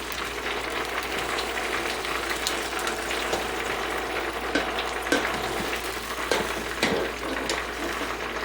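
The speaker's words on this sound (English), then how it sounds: "Ooh, it'd be sizzling." Chicken cooking in an air fryer sizzles and crackles steadily throughout, a continuous close hiss with a few brief louder pops and clicks and no talking.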